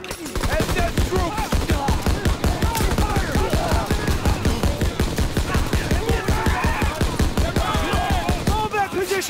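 Rapid, sustained automatic gunfire in a World War II battle in Call of Duty, loud and relentless, a near-continuous stream of shots running the whole stretch with battle shouting mixed in.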